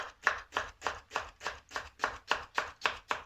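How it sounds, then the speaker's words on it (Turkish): A knife chops steadily through onion on a cutting board, about eleven even strokes in a regular rhythm, close and crisp. "bugün iki tane soğan doğruyorum"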